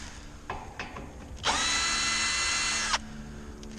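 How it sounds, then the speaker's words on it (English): A power drill backs screws out of an outdoor AC condenser coil panel, with light tapping clicks followed by one loud, close, high whir lasting about a second and a half. "I have started taking the screws off around so we can finish this."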